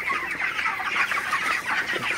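A shed full of 26-day-old broiler chickens on a poultry farm clucks continuously, many birds overlapping in a dense, steady chatter at moderate distance, with no talk.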